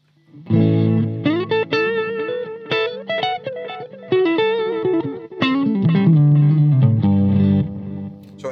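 An electric guitar runs through a recreated Roland Space Echo RE-201 tape echo, ringing out loud, sustained notes and chords with trailing repeats over several bars, played alone without any talk.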